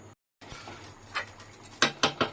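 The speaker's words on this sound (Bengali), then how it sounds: "এবার আমি ঢাকা দিয়ে দেবো" A lid set onto a pot of duck egg curry: soft metallic scrapes followed by three sharp, close clinks of metal on metal in quick succession at the end.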